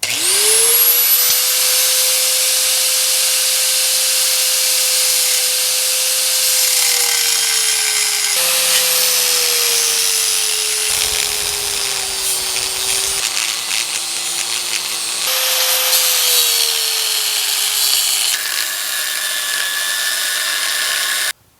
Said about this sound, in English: I think I might have to cut a little wide and then just grind up to it